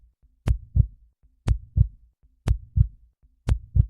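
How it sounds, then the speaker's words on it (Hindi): A slow, steady heartbeat thumps in clear double beats, four lub-dub pairs about a second apart, deep and close with silence between. "हल्की सरसराहट और तेज धड़कनों की आवाज।"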